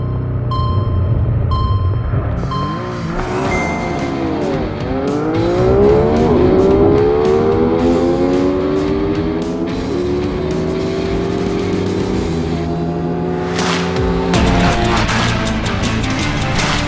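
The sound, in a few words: motorcycles accelerating in a drag race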